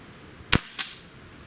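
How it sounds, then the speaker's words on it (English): A Beeman Raider air rifle fires a single sharp, loud shot at close range, followed a moment later by a softer secondary crack or pellet impact, then quiet. "That's shot number 1. It's pretty amazing, actually, for this rifle."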